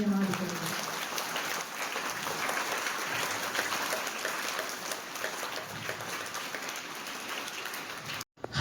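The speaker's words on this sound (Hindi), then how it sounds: "इसके लिए हम और एक बार जोरदार तालियों से इनका धन्यवाद करेंगे" An outdoor crowd claps warmly after an anti-drug street play, a continuous wash of applause lasting several seconds before cutting off abruptly, with a voice heard briefly at the start.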